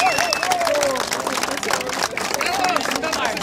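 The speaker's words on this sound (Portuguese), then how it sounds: "Palmas, palmas, família!" Crowd at a rap battle final clapping steadily in a dense, continuous wash, with loud shouts and whoops from the audience rising over the applause.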